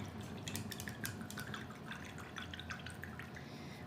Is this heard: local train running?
no